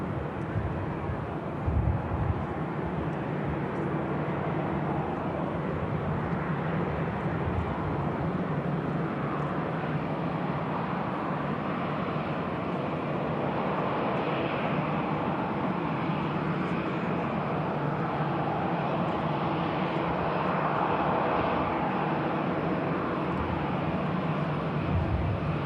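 Airliners at Manchester Airport, including an easyJet jet arriving from Oslo and a Singapore Airlines jet taxiing, give off a steady broad engine roar and rumble that stays fairly constant and moderately loud, with wind buffeting the microphone.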